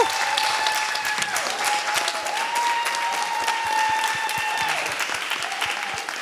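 Audience applause at an African development and health conference, steady dense clapping that fills the whole stretch at an even level, with a few tonal tones and faint voices underneath.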